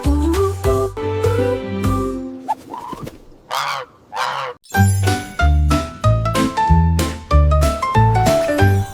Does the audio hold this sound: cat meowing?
no